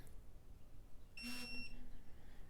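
Snap-on electronic torque wrench giving a short buzzing beep with vibration as the set torque is passed, one tonal burst of about half a second over quiet background.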